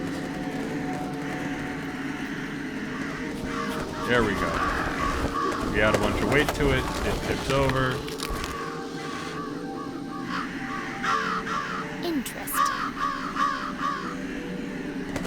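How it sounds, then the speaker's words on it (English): Crows caw in a graveyard scene of Jenny LeClue as they are scared off, a flurry of harsh calls and fluttering mixed under casual talk. "we're definitely scaring away some crows."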